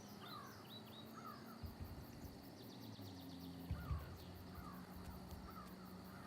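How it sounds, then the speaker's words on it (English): Birds call faintly outdoors, including a crow's caws and scattered chirps, over a quiet, steady ambient hum of distant highway traffic. "We can hear some birds, of course."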